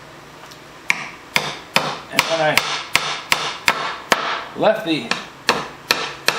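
A well-made hammer striking a hard object in a workshop, about a dozen sharp, loud, evenly spaced blows with ringing tails while someone talks over them.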